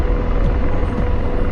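Apache helicopter in the DCS flight simulator, a loud, steady rotor and engine rumble heard close up from the cockpit, with no talk.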